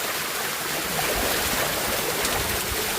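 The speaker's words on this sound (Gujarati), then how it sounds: "એકદમ સરસ મજાનું ઠંડુ પાણી આવી રહ્યું છે અહીંયા પથ્થર ઉપરથી." Cold water streams over stone along the steps of Girnar mountain, a constant close rushing wash with no breaks and no voices.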